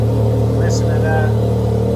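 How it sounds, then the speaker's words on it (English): A Can-Am X3 side-by-side idling with its GGB aftermarket exhaust, a low, steady throbbing rumble that runs continuously up close, with a voice talking over it. "GGB exhaust back there purring."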